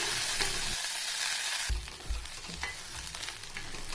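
Curry leaves crackle and sizzle loudly as they fry in hot oil in a pan for Karuveppilai Kuzhambu, a dense steady hiss with popping bursts and stirring, no voices.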